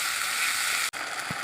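Onion cooking in a pan with ground garlic, ginger and green chilli paste gives a steady close sizzle, briefly cut off and then resuming, with a single soft knock of a utensil.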